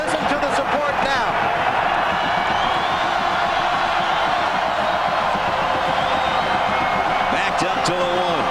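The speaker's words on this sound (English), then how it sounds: "I have not been down here on the football field to hear this crowd this loud in a number of years" A large crowd roars loud and continuous inside a college football stadium during a Maryland versus Florida State game, with cheers and whoops swelling while a voice talks over the noise.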